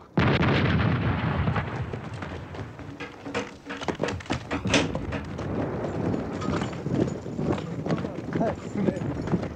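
Artillery cannon fire in a 1977 Romanian war film: a loud barrage of heavy booms and blasts mixed with hoofbeats and commotion, with voices shouting over the din.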